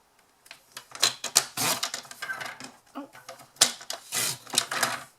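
Paper card being trimmed down to size while crafting a honeybee hive gift box, a series of close crisp slicing and tapping strokes in irregular bursts, loud and alone.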